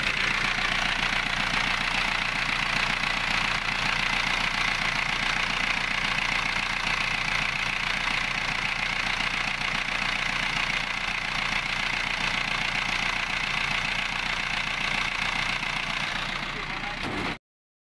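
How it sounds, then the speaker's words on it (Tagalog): An Isuzu C190 diesel engine in a Philippine owner-type jeep idles steadily and loudly up close, a constant rough chugging drone that holds for the whole stretch before cutting off abruptly at the end. "Makina niya Isuzu C190."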